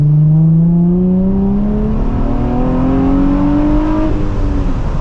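A Nissan 350Z fitted with an oil catch can revs up loud and close, its engine note climbing smoothly and steadily before settling into a sustained high drone.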